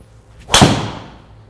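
A TaylorMade M5 or Titleist TS3 driver strikes a golf ball in one sharp, loud, explosive crack whose bright ring decays over about a second.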